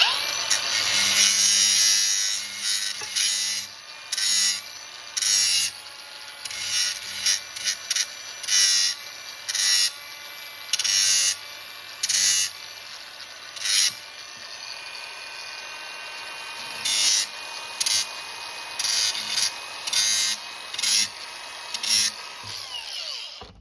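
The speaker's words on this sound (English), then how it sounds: "So I'm going to scrape the inside as well." A blade scrapes crusty residue off a metal edge during a long-travel rear suspension install on a Yamaha YXZ. Repeated close, short, gritty strokes come in a steady rhythm with brief gaps between them.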